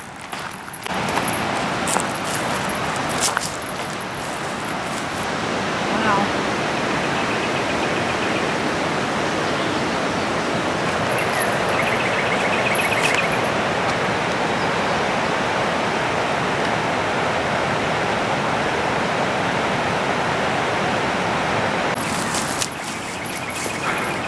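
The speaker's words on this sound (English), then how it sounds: "I can hear the river down there." River flowing below a grassy hiking trail at Blue River in Oklahoma, heard as a steady broadband rush throughout, with intermittent metallic jingling over it.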